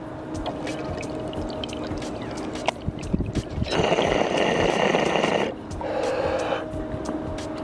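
Water bong bubbling as someone takes a long draw, a loud gurgling chug in the middle after softer crackling and breathing, tapering into lighter bubbling, no talk.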